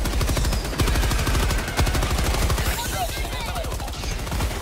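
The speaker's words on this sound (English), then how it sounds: "the machine gun's all over the place" Rapid machine gun fire in a co-op action video game, dense continuous bursts of loud shots with chaotic overlapping effects, with players talking underneath.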